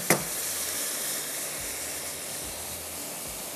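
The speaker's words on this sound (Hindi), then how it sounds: "अब ये सारा मसाला इसके अंदर डाल देती हूँ और फिर दाल के साथ हल्की आग पे ही पकता रहेगा।" Spices sizzle steadily in a pot of dal cooking over a low flame, a continuous soft frying hiss with a brief louder crackle at the start and faint low bubbling beneath, no voices.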